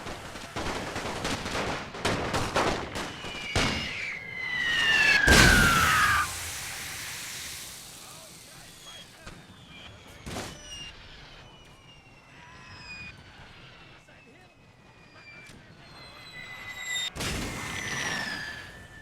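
Artillery and rifles fire in a World War I battle in the Great War Total War mod: scattered sharp shots, quick bursts and heavy booms, with a falling whistle, some near and some distant.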